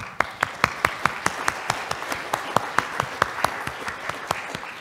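Sparse clapping from a small conference audience, distinct individual claps in an uneven rhythm, moderately close but fairly quiet, lasting about five seconds.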